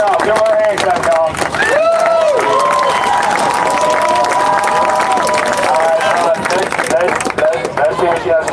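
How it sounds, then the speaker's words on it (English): A crowd at a nighttime George Floyd police brutality protest in Denver claps and cheers for a speaker. Loud, dense applause and whoops come from close by, with shouting voices mixed throughout. "Let's hear her out. Give her a hand clap, y'all."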